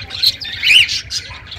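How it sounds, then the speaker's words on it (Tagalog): Parakeets chirping in quick, high bursts, several short calls overlapping across a second and a half, fairly close with a faint low background rumble. "Parakeets."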